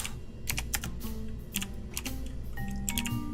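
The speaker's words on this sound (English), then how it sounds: "Silly that hotkeys work while typing." Rapid typing on a computer keyboard, with a close, irregular clatter of keystrokes running throughout over a quiet game soundtrack.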